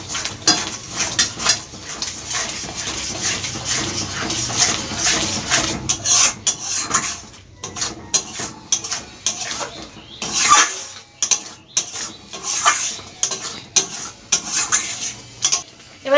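Jackfruit curry being stir-fried in a pot, loud repeated rasping scrapes of a spoon against the metal in an uneven rhythm, close and busy throughout with brief pauses.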